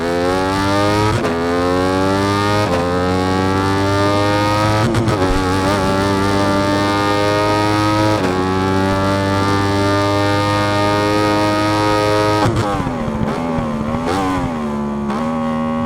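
The engine of a Ducati motorcycle in the racing game Ride 5 whines steadily at high revs, climbing through the gears, with sharp drops at each shift and a deeper dip when braking near the end.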